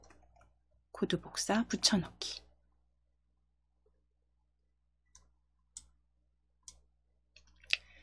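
Sharp computer mouse clicks, a few isolated taps spaced seconds apart, follow a brief stretch of talking in a quiet room during a coding lesson.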